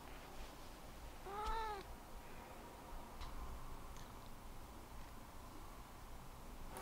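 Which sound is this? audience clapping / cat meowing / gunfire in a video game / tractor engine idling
cat meowing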